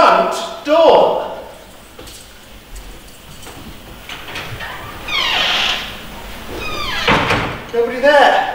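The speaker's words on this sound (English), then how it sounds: "I'll answer the front door." A front door opens and shuts in a comedy scene, with close wooden knocks and bumps heard under people talking.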